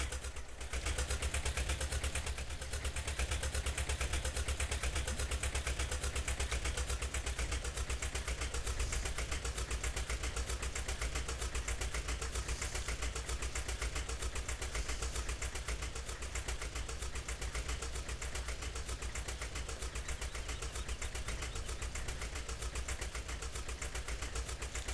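Tractor engine in Farming Simulator 17 running steadily through a long drive across a field, a continuous droning hum with constant loudness and no talk.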